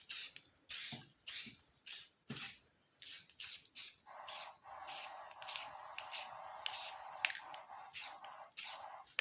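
Spray paint mists onto poured epoxy resin to tint the pigments in short, repeated hissing bursts, each a second or less, close and fairly quiet with brief pauses between.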